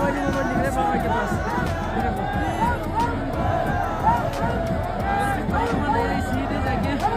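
Dense crowd murmur fills the air at Kedarnath temple as the doli procession circles the shrine, a continuous babble of many voices at steady loudness throughout.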